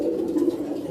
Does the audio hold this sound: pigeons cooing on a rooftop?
yes